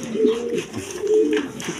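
Pigeons cooing up close, a pair of soft rolling coos in quick succession, loud and clear with no talk over them.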